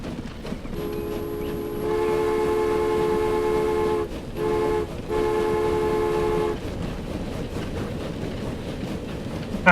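A train in the Transport Fever railway simulation game rumbles along steadily, with a sustained multi-tone horn sounding for several seconds, briefly broken twice, over continuous rolling noise; no talk.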